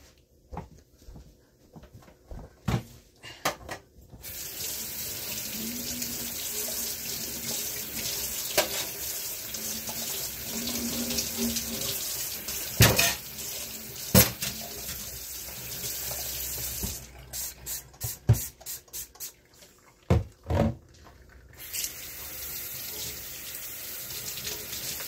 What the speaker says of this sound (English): put that in the sink with soap